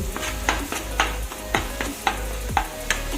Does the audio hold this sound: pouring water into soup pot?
no